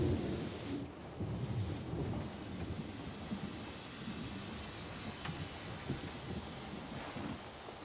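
A thunderstorm with steady heavy rain and rumbling thunder in Syberia: The World Before, with a loud crack at the start, then continuous rain hiss and low rolling rumble throughout, no voices.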